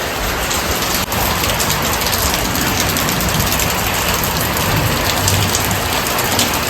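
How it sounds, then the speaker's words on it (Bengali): Heavy rain falling outdoors in a steady, dense roar of drops striking surfaces, loud and constant from start to finish, with no voices heard. "ভালো বৃষ্টি পড়তেছে।"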